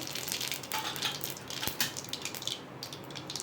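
Mustard seeds and urad dal crackle and sputter in hot oil in a kadai, a steady close fizzing with sharp pops throughout and no voices.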